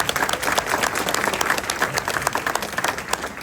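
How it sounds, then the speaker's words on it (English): A crowd at the JetBlue Embraer E190 retirement, marking its last flight from JFK, gives sustained, dense applause that stays loud and even throughout. "Just a huge round of applause to all of you who came out today to see this last flight"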